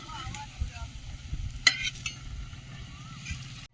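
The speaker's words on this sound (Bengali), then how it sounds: "একটু নুন দিয়ে ভেজে নেব উচ্ছেটা একদম লাল লাল করে ভেজে নিয়েছি" Bitter gourd frying in a pan with salt, a soft sizzle under low rumbling background noise, with one brief sharp clink of utensil partway through, fairly quiet and close.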